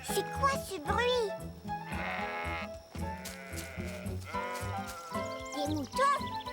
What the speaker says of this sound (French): Des moutons? Youpi, grand-mère, regarde! Des moutons!